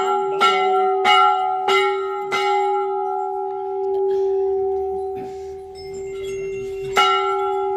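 Temple bell at a hilltop family shrine to the deity Golu Devta, struck in a series of bright metallic clangs with long ringing harmonics, several strikes in quick succession, a pause, then one more strike near the end, with faint voices around.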